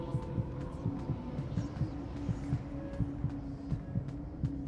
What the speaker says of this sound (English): I hear a lot of heartbeats and I don't like it.